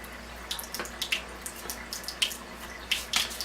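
Tap water running steadily while a machine part is rinsed under it, with irregular splashes and drips breaking over the flow, close and moderately loud with no talking.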